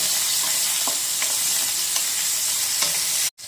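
Tomatoes, ginger and green chillies fry in a pan, giving a loud, continuous sizzle broken by a few light stirring taps, ending in an abrupt brief dropout.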